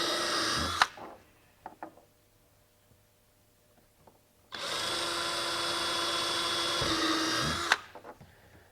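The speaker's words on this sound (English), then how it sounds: "Take your power drill and drill out those 2 holes that you just marked." A power drill bores holes in a kayak hull to mount a cleat, a loud steady whir in two bursts separated by a quiet pause with small clicks.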